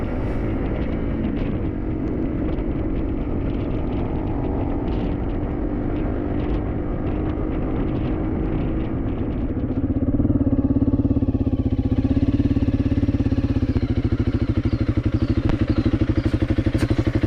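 Motorcycles, among them Suzuki DRZ 400s and the rider's own bike Rigamortis, ride along a back-country route with a continuous close engine drone that grows louder and heavier about halfway through, and nobody speaks.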